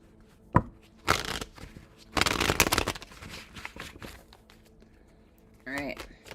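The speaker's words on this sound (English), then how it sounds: "last shuffle for my Libras" Tarot cards shuffled by hand in several bursts of riffling and rubbing, with a sharp tap near the start and a louder sustained run in the middle, close and clear, followed by a brief spoken voice at the end.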